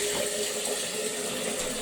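Slushy water being poured into a measuring jug at home, a steady rushing stream of liquid, close and continuous for the whole stretch.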